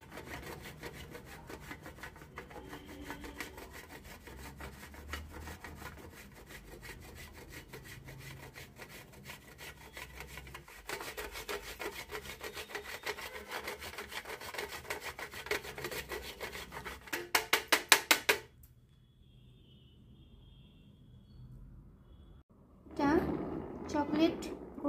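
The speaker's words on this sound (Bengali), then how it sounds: "চকলেটগুলোকে আমি আগে গ্রেট করে নিই" Chocolate is grated for decorating a Black Forest cake, giving rapid rhythmic scraping strokes against a grater that build, pause briefly near the end, then resume in a short burst.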